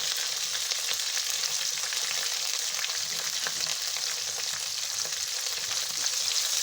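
Steady, close sizzling of finely chopped ginger, garlic and green chili frying in hot oil for vegetable pulao, a bright crackling hiss with no talking.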